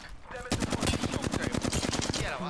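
Gunshots in the Apex Legends video game: one close, loud automatic burst of about fifteen evenly spaced shots lasting two seconds.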